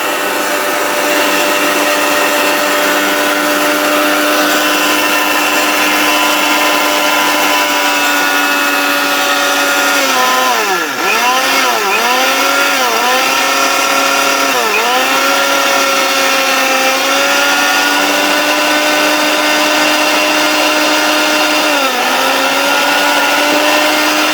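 A double-pot multifunction curry cooker's motor runs loudly and steadily, a dense whirring drone that dips and wavers several times midway as the load shifts, with no talking.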